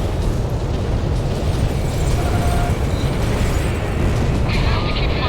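A missile explosion in the Ace Combat 6 jet combat video game makes a loud, sustained roaring blast, a dense rumble that barely varies from start to finish.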